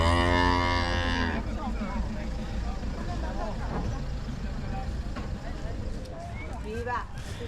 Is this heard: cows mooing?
yes